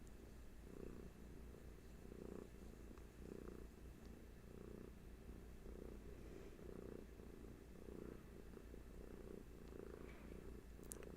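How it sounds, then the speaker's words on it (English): A cat purrs close and soft in a quiet room. The low rumbling comes in a steady rhythm of pulses, one with each breath, with no voices over it. "Check out those Hattie purrs in the background"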